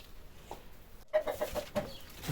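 Chickens cluck softly in a quick series of short calls, close by amid quiet outdoor ambience.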